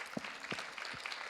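A church congregation claps in praise of God during a bilingual sermon, a faint, distant patter of scattered handclaps over a brief moment.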